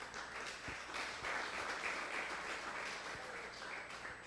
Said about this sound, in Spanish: ¿Cuántos aplauden al Señor?